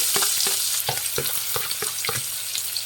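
Onions and curry leaves fry in hot oil with a loud, continuous sizzle, and a utensil scrapes and knocks against the pan at a regular stirring rhythm throughout.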